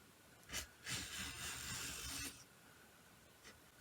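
Scissors snip and rasp through three layers of chenille fabric for hot pads, giving a few short close cutting bursts followed by a longer sustained scraping cut, then quiet with one faint snip near the end.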